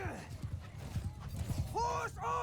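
Cavalry hooves in a Mount & Blade II: Bannerlord battle, a rapid irregular clatter of clip-clops at moderate distance, with a whinny-like call near the end and speech over it.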